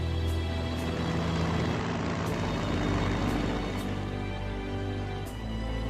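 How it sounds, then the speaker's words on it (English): A tactical bomber aircraft in a World War II strategy game flies in as a steady, loud, broadband engine drone that holds unbroken for several seconds. "Tactical bomber, armed and ready. Correcting angle of approach."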